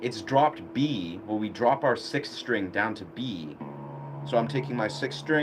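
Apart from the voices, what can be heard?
No everyday noises stand out.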